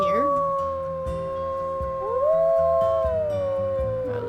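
Wolves howl in the WolfQuest video game, several long overlapping howls that slide up and hold, steady and loud against a low ambient bed.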